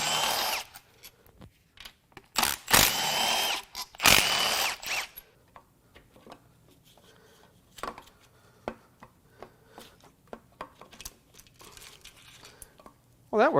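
A power tool loosens the three 10mm bolts holding the oil pump on a blown Mazda Skyactiv-G 2.5 engine from a CX-30, with two loud whirring bursts followed by scattered metallic clicks and clatter of parts.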